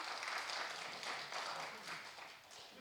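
A congregation at a Thursday church gathering applauds, a continuous wash of many hands clapping that fades slightly toward the end, quiet and somewhat distant.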